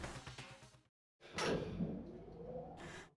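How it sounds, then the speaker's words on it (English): Elevator doors sliding shut in the Danganronpa video game: a short mechanical rush, a brief silence, then a loud sustained sliding whoosh that ends on a steadier hum. "Watch the doors close."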